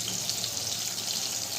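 Broad beans (shim) frying in a pan over a medium gas flame, giving a steady, close, continuous sizzle with faint stirring, no voices.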